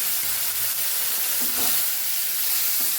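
Marinated cauliflower with chillies and tomatoes frying in a pan, giving a soft, steady sizzle and hiss with a few brief stirring clatters close by.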